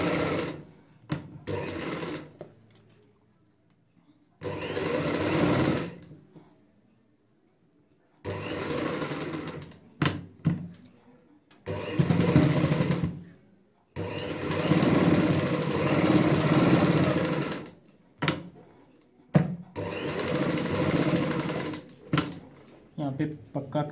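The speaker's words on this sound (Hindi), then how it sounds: "यहाँ पे बुकरम के साथ साथ सिलाई लगाएंगे।" An electric sewing machine stitches a ladies' purse lining together with buckram, running in loud close bursts of several seconds each, stopping and restarting repeatedly with brief silent gaps between runs.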